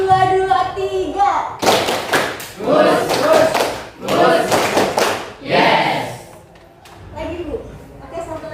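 Children in a classroom clap a short counted pattern in bursts, groups of claps separated by brief pauses, with a teacher's voice calling out between them.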